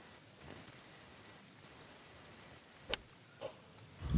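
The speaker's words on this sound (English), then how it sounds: "So raining again at this end." Rain falling outdoors on a golf course, a steady soft hiss with a few brief sharp drop-like ticks near the end, faint and without any voices.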